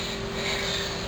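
A small generator engine runs steadily at a constant, fairly quiet drone with an even mechanical hum and no interruptions.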